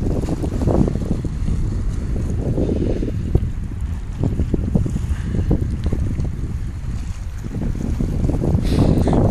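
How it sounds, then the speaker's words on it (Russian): Strong wind buffets the microphone on the Chalkidiki seashore at Nea Kallikratia, with surf and wave spray rushing continuously underneath, loud and steady throughout with no speech. "Брызги волн несет ветер на меня."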